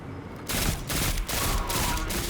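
Gunfire in Destiny 2 sounds as several loud, broadband bursts of shots, close together in quick succession, with no talking.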